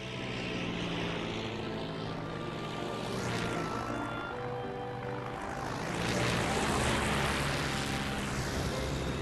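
A biplane with struts and an extra wing flies by, its propeller engine droning loud and steady throughout, swelling slightly near the end with no voices.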